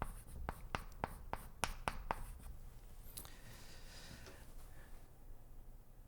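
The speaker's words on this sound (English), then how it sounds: "I'll just write CTS for continuous." Pen strokes scratch quickly across a writing surface during a math lesson on continuity, a burst of short taps and scrapes followed by a longer fainter stroke, quiet and close with no talking.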